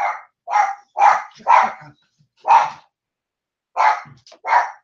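A small dog yaps and barks in sharp bursts, about seven close, loud yips in an uneven rhythm with brief pauses between them, heard on its own with no talking.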